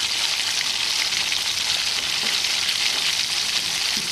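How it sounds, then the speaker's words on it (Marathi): Curry leaves sizzle loudly and without a break in hot oil, a dense, close crackling hiss that never lets up. "कढीपत्ता टाकते."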